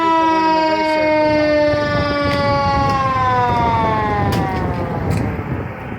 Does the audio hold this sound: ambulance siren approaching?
yes